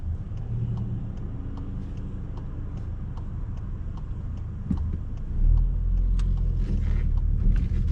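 A 2018 Volkswagen Golf GTI with a six-speed manual gearbox drives along, its low engine rumble steady under road noise, with a brief bump and a rise in engine tone near the end.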